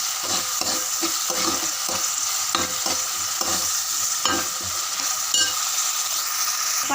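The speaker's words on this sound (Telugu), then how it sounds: "అల్లం వెల్లుల్లి పేస్ట్ వేసుకోవాలి. కొంచెం పచ్చివాసన పోయినాక బాగా కలుపుకొని" Ginger garlic paste fries in a pan while a spoon stirs it, with a constant bright sizzle broken by repeated scraping strokes against the metal, close and fairly loud, no voices.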